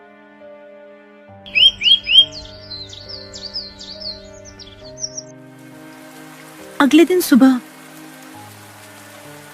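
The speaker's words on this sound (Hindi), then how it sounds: "पूरी रात बारिश होती रही।" Steady rain falls through the night as a continuous soft hiss, with birds chirping in short bursts over it and a narrator's voice speaking briefly.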